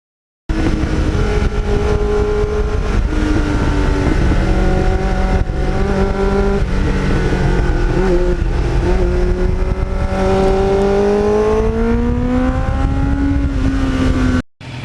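A 1989 Kawasaki GPX750R with a Muzzy muffler runs loud and close, its engine holding a steady drone that rises and falls through smooth rev sweeps for the whole stretch before cutting off at the end.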